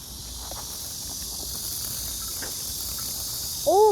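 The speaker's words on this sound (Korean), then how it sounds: "말매미라는 친구예요." A Korean horse cicada (Cryptotympana atrata) calls outdoors as a steady, loud, high buzzing drone that continues through the whole stretch, with faint rustles beneath and a brief sweeping tone near the end.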